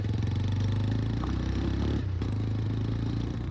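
A super bike engine runs close by with a steady, deep, throbbing note and a brief dip in the middle, loud and continuous, with some light clattering over it.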